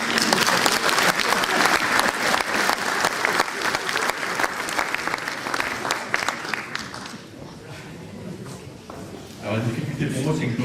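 A ceremony audience at a town New Year's greetings event in Veigné claps in a dense, loud burst of applause that thins out after about seven seconds, then a few claps and a brief louder rustle near the end.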